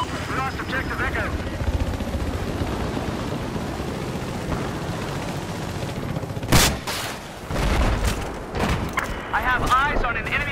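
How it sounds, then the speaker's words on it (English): Enemy helicopter in the video game Battlefield 4, a steady rotor drone under loud game combat with bursts of gunfire and explosions, while players talk over it. "Chopper! Enemy chopper!"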